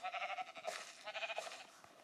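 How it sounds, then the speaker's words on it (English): Sheep in the Minecraft PE video game bleat repeatedly, a string of short wavering cries in quick succession, faint and alone with no talk. "Where's the sheep? Come back here."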